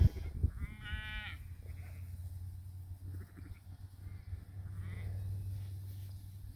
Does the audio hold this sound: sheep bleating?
yes